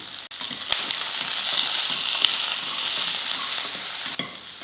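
A large onion and four garlic cloves sauté in hot oil in a pan, giving a loud, continuous close sizzle with a few soft stirring scrapes and clicks.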